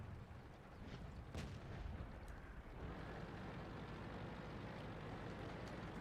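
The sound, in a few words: tank gun blind shot in World of Tanks video game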